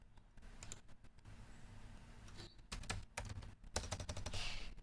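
Rapid keystrokes on a computer keyboard, clustered in irregular bursts of clicking taps with short pauses, close and fairly crisp, with no talking.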